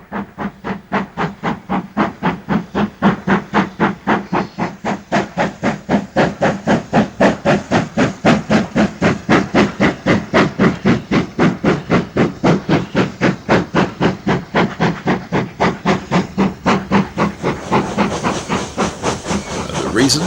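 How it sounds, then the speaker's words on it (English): A 9F steam locomotive, number 92165, works hard at speed hauling a heavy train of loaded oil tanks, its exhaust beating in a steady, rapid chuff close by, with hissing steam building toward the end. "F 92165 is making good speed with a heavy train of loaded oil tanks"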